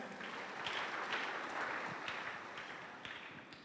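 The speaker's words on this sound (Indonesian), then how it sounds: "Yang mengerti tepuk tangan." A church congregation clapping during a worship service, a dense, steady wash of many hands at moderate distance, continuing without talk.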